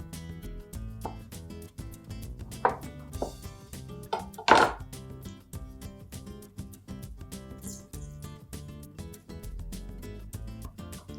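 Oranges being rolled on a kitchen counter before juicing, a soft continuous rumbling and rubbing with a few sharper knocks and clacks against the surface, close and fairly quiet.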